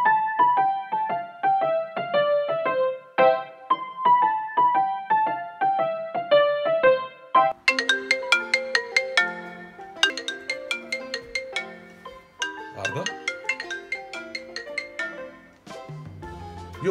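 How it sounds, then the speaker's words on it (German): A mobile phone ringtone plays while a call to a friend goes through, a bright electronic melody of repeated note patterns that changes tune halfway and carries on loud and clear with nothing else around it. "dann nimm dein Handy raus und lass uns die jetzt sofort anrufen"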